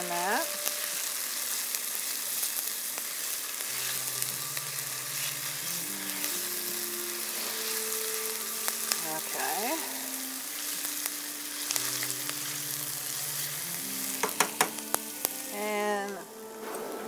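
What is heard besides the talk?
vegetable medley frying in a pan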